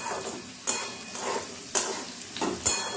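Potatoes with green chilli and sesame seeds sizzle steadily in a frying pan while being stirred, with three sharp scrapes of the utensil against the pan at regular intervals and no talking.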